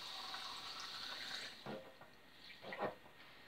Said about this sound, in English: I'm going to fill each jar with cold water.